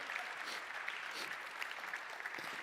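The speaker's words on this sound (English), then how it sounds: "a big round of applause for Tina" Steady applause from an audience at an arts and technology symposium, a continuous patter of many hands heard from a distance at low volume.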